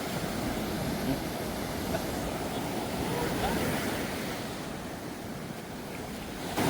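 Sea waves wash steadily onto the shore along the Vadamarachchi coast, a continuous broad surf roar with wind, loud and unbroken throughout.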